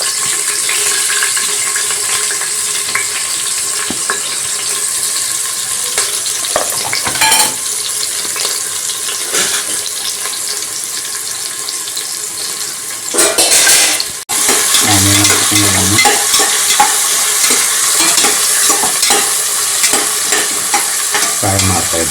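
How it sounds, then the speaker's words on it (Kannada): Onion frying with garam masala in coconut oil for vegetable pulao, a steady loud sizzle with scraping stirs and occasional clinks of a utensil against the pan, running throughout without talk. "ಫ್ರೈ ಮಾಡ್ತಾ ಇದ್ದೇನೆ."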